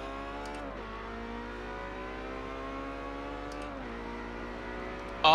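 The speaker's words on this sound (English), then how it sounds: "Ah, that engine noise." A car engine in a racing game played on a Logitech G920 wheel with manual transmission, revving steadily with smooth pitch changes as the gears shift, heard clearly and without talk.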